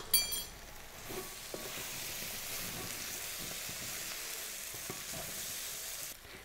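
A spoonful of flour roasting in a frying pan for gravy, giving a steady close sizzle with occasional scraping and stirring scratches and a brief clink at the start, without any talking.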